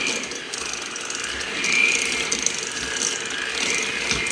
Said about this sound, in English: So I'm just using a hand mixer